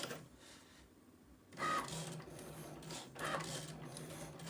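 A Cricut Maker 3 cutting machine running in bursts, its faint motor whirring and carriage moving in short stretches separated by pauses, quiet and nearby with no voices.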